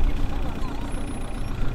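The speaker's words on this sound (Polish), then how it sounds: "Niech chodzi, niech się rozgrzeje." Opel Astra 1.6 engine idling to warm up, a low, steady rumble close by with a faint high whine above it.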